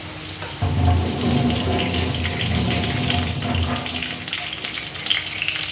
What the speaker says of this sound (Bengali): তেজপাতাগুলি ধুয়ে নিচ্ছি।